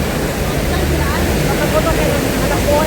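Running water flows steadily in a loud, continuous rushing wash that fills the whole stretch without pause, and a voice can be faintly made out beneath it.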